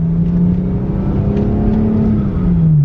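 A car pulls away on a test drive, its engine note droning steadily and rising slightly as it gains speed, close and loud with no talk over it.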